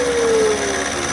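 A 3/16 inch end mill cutting a radius on a shop-built hand shaper, giving a loud, close, continuous whirring machine tone with a steady pitch and no break.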